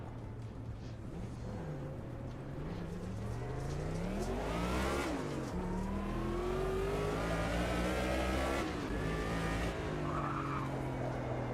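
A race car in a video game brakes hard and skids, with a continuous engine drone and long, wavering tire squeals that rise and fall over about eleven seconds, steady and fairly loud.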